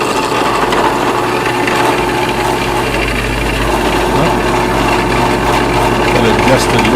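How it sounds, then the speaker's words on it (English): A drill press runs in a woodworking shop, a steady motor hum with a constant low drone and light rubbing noise throughout, loud and close. "I'm going to turn on my drill press."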